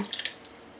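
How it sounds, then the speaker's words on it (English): Water is poured into a pot of lentil curry. It splashes briefly and close, then trickles and drips more softly, with no talk. "Gonna add me some water."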